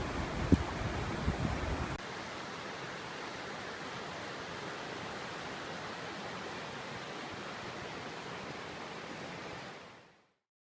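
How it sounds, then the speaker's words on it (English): Bright Angel Creek in the Grand Canyon rushes over rocks in a steady, broad wash of flowing water, with a few faint knocks at the start before the sound fades out at the end. "This is Bright Angel Creek."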